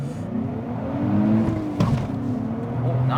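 A 2023 Nissan Z accelerates hard from a launch with flat-foot shifting, its engine droning loudly and steadily as revs climb, with a brief shift break partway through.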